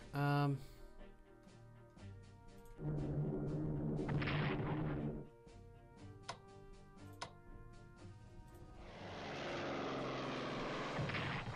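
A plane flies in the World War II strategy game Strategic Command: World at War, a droning engine hum rising and fading across several segments, mixed with sharper game effect bursts at a moderate level.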